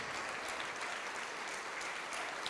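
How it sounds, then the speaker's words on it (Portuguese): A church congregation applauds in praise of Jesus during a worship service, producing steady, dense clapping that sounds somewhat distant and soft and continues evenly throughout. "Vamos aplaudir mais ao nome de Jesus."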